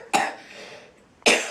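A child coughs twice, two sharp, close bursts about a second apart with a quiet breathy gap between them.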